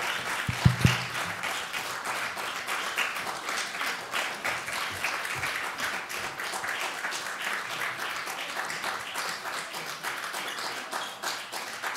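A church congregation keeps clapping steadily as Sunday school children make their way forward during a family worship service, the dense crowd applause holding at an even level throughout.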